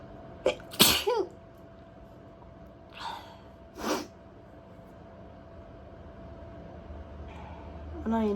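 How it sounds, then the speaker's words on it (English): An uncovered human sneeze bursts out sharply near the start, followed by a couple of shorter snorting, sniffing breaths and quiet breathing, close and otherwise alone in a still room. "I am sneezing uncovered"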